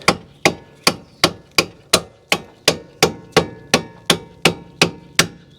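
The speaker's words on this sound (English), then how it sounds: "Just a little tap with a rubber mallet" A rubber mallet taps a strut bolt into place during a front strut replacement on a Mazda 3, making thirteen sharp, evenly spaced knocks about half a second apart, close and clear with no talking.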